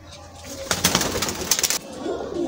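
A Lahori pigeon in Sialkot, Pakistan, coos close by in a short burst of soft, breathy calls, with light rustling around it and no talk.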